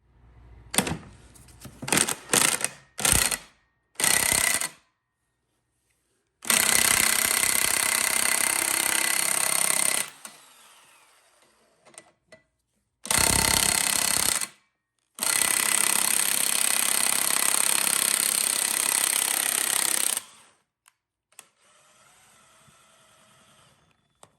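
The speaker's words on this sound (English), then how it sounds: "We're gonna see if we can't blast this ball joint out of here." An electric 1/2 inch impact wrench drives a ball joint press on a 22 millimeter shaft, firing in several short hammering bursts and then two long loud rattling runs, all close up.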